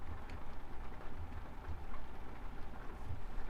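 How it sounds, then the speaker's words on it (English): Nighttime rain in Euro Truck Simulator 2 makes a steady hiss and patter, with faint low rumbles underneath, continuous and even throughout. "And it's raining."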